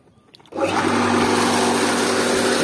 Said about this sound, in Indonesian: Ini dia bolo-bolo pompa tipe J2000 yang menggunakan Alcon diesel ukuran 3 dim.